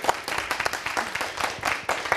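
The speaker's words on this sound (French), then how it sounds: "donc applaudissements pour eux" Studio audience applause on a Burkina Faso television music show, steady dense clapping with a few louder bursts, moderately loud and continuous throughout.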